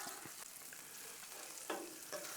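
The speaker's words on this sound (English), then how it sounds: "these ribeyes cooking up in all this butter" Ribeye steaks frying in butter on a Blackstone flat-top griddle give a steady, fairly faint crackling sizzle with a couple of brief spattering pops.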